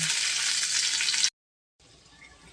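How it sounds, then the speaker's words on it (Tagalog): Garlic sizzling in oil in a frying pan still greasy from a cooked egg, a loud steady hiss that cuts out briefly, then returns softer. "Sa pinaglutuan natin ng unang itlog, lagay na rin natin ang ating bawang"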